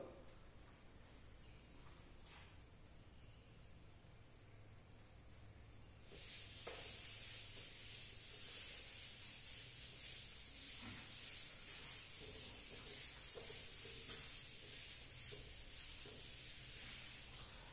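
A chalkboard eraser rubbing out writing during a maths lecture on arc length, heard as a sustained broad scraping hiss that starts partway through and continues steadily, fairly close, with no talking.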